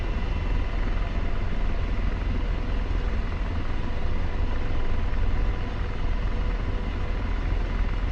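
AH-64 Apache helicopter in the DCS game, a loud continuous engine whine and rotor roar filling the whole stretch evenly, close and steady with no talking.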